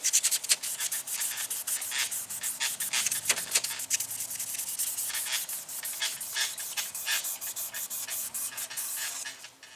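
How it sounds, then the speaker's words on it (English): Rapid back-and-forth scratching strokes of sandpaper rubbing a car wheel rim by hand, close and continuous with a brief pause near the start. "I think I got everything sanded"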